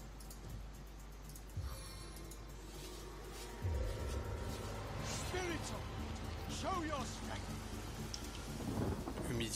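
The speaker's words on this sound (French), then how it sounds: "Toi, tu vas lancer pluie." A rain spell cast in Divinity: Original Sin, heard as a sudden, steady downpour that swells in partway through and keeps hissing under game sound effects and a few brief tones.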